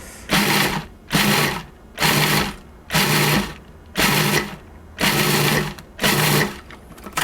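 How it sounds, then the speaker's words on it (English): A food processor pulses a chocolate pie crumb crust, roughly seven short loud motor bursts in a steady rhythm, each about half a second long and separated by brief near-silent gaps, with no talking. "same thing, I'm going to just pulse this"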